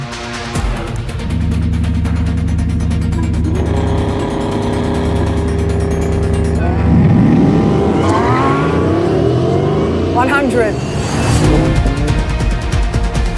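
A Porsche supercar accelerating hard on a race circuit, its engine note climbing steadily through rising pitches before a shift, loud and close from inside the car, with sweeping tonal whines toward the end.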